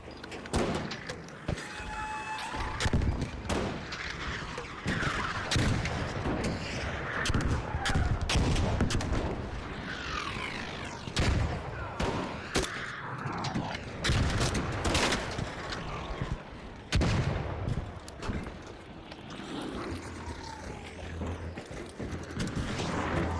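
Repeated gunfire at the legs of a bombardier in Arc Raiders, dense bursts of shots crackling loudly and continuously with impacts and game effects, no talking.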